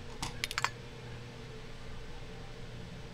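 A short burst of quick mouse clicks on letters in the I SPY Mystery video game, several sharp taps close together near the start, then quiet hum.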